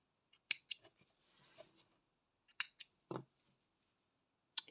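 Scissors snip through cross-stitch embroidery thread in a few crisp, close clicks spaced a couple of seconds apart, in an otherwise quiet setting.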